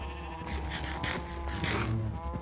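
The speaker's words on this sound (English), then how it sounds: "Look at these sheep getting their shit and wool back real fast." Several overlapping sheep bleats from Minecraft farm animals, repeated in quick succession over a steady low game background, fairly loud and close with no talking.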